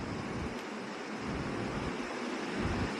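Sea waves wash along the long shoreline near Karde beach as a soft, continuous surf hiss heard from a distance, with light wind noise and no voices.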